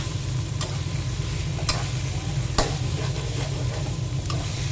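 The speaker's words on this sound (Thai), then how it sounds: "ผัดเนื้อหมูป่านะคะ ให้สุกสักพักหนึ่งนะคะ" Wild boar meat stir-fries with red curry paste in a hot pan, a loud continuous sizzle with a low rumble beneath and a handful of sharp spatula clicks against the pan.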